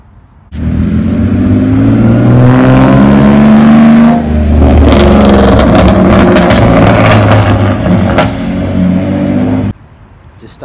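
Straight-piped BMW E46 engine, piped from the headers, revving hard and loud for about nine seconds, a close, raspy drone that rises and falls through repeated throttle blips before cutting off abruptly.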